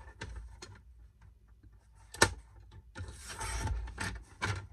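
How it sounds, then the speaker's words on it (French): Scissors cut through a small paper card in short bursts of crisp snipping and rustling, separated by pauses, with one sharp click midway and a denser run of cuts toward the end. "je découpe ma petite carte"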